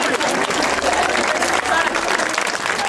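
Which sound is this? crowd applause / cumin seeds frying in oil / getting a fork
crowd applause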